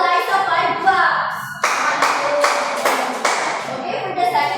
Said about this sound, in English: Let's give Eliza 5 claps.